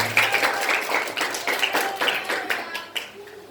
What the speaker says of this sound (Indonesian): Berikan tepuk tangan untuk C5.